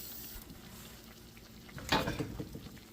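Lamb chops fry quietly in butter in a pan, a soft steady sizzle with a louder burst of stirring and spatter near the two-second mark.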